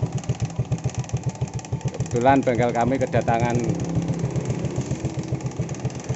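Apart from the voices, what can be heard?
Suzuki Shogun 125 motorcycle engine idling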